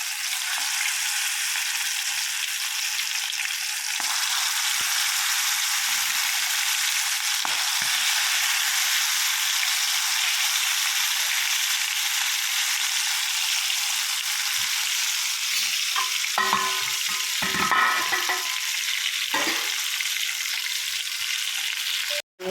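Ivy gourd fries with masala in a pan, giving a bright, continuous sizzle that stays loud and close, with occasional stirring scrapes near the end and no speech.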